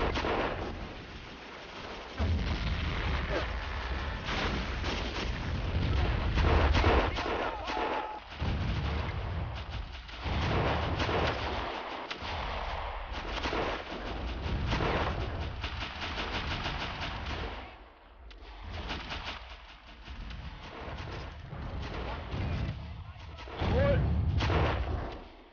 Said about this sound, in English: I don't think these machine gunners know what they're even shooting at, to be honest.